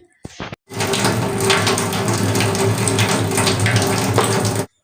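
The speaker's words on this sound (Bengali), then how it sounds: "এই আতপ চালটাকে ধুয়ে নেব আর তার জন্য একটা বড় বোলের মধ্যে নিয়ে নিচ্ছি" Aatap rice being washed in a big bowl of water, a steady, close rushing splash of running and churning water that starts after a couple of short knocks and continues loudly without talk.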